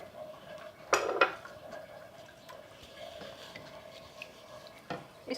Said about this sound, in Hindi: इसको अच्छी तरह से मिक्स करते जाएं,